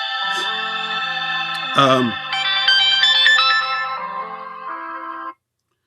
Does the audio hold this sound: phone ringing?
yes